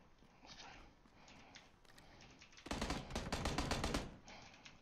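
Gunfire in a first-person shooter video game: a dense burst of rapid automatic fire runs for over a second near the end, loud and close, after quieter scattered shots and game noise.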